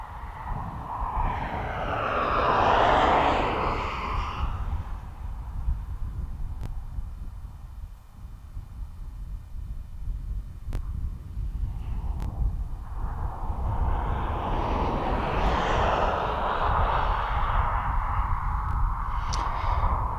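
Aircraft landing at East Midlands Airport, heard as a broad engine roar that swells in the first few seconds, dips, then builds again toward the end, steady and fairly loud with no talk.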